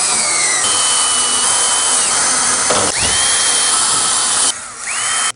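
A power drill driving fasteners to secure an AC3010 insulated ceiling inlet, with several loud, close bursts of whirring that rise and wind down between short pauses, and no talking.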